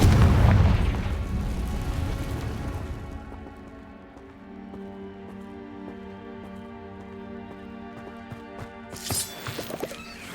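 A Confringo spell explodes in the Hogwarts Legacy video game, opening with a loud, booming blast that fades into a crackling, rain-like tail and quiet tonal game ambience, with a brief bright burst near the end.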